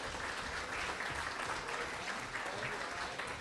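Steady, dense applause from a banquet crowd at a high school spring sports awards night, sustained and fairly loud throughout with no break.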